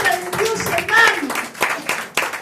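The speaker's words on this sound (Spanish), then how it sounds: "Aleluya, aplaudan, aplaudan." A church congregation breaks into a short burst of scattered hand claps that follows and overlaps a preacher's loud, echoing speech.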